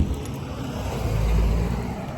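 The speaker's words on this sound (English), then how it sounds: "There, car goes by." A car drives by outside at night, a low rumbling whoosh that swells and then eases over a couple of seconds, heard from indoors.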